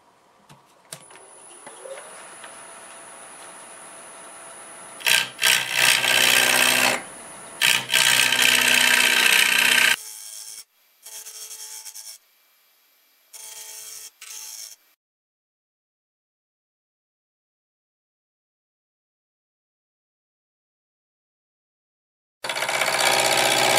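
A lathe gouge cuts a Spanish olive wood bowl in loud, rough bursts of several seconds each, separated by pauses and a long stretch of silence before cutting resumes.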